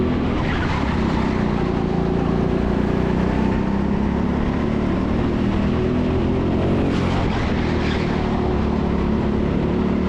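Go-kart engines race around the indoor TeamSport Sheffield track in a GP1 elite members event, a dense, continuous near drone of several karts with bursts of tyre scrub and revving, no talking.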